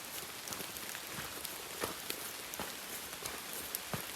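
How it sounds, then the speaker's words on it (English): Steady rain patters on a foggy uphill stretch of the Appalachian Trail, with scattered louder drops standing out from a soft, continuous hiss. "it's still raining, as you can see"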